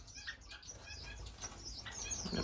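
Owl finches in an indoor bird room give soft, high chirps and tweets with brief wing flutters, several short calls scattered close by over a quiet room background.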